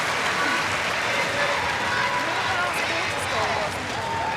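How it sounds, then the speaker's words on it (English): A large indoor crowd gives a loud, sustained ovation at a netball World Cup match between New Zealand and Singapore at the M&S Bank Arena, steady clapping and cheering that fills the whole stretch. "Great ovation from this crowd."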